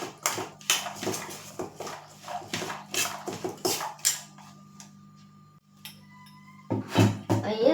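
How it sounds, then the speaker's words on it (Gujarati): Sprouted-legume kathol chaat is tossed with white sesame seeds in a bowl: busy clinking and scraping of a spoon against the dish, quick and close, easing off before a final burst of clatter. "થોડા હું સફેદ તલ એડ કરીશ અને બધું બરાબર મિક્સ કરી લેશું"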